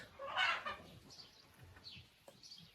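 A turkey hen sitting on eggs in a poultry yard gives one fairly loud cluck, followed by fainter scattered clucks and small sounds. No one speaks.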